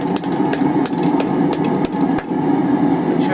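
A blacksmith strikes hot steel with a hammer to center the taper on a hand fuller, sharp metallic blows landing irregularly over a loud forge-shop roar, close and prominent.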